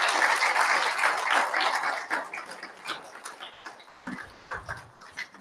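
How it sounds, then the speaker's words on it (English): Audience at an ex-Jehovah's Witness gathering in Sydney gives a big round of applause, loud and dense at first, then thinning into scattered claps and fading. "And I think they deserve a massive round of applause."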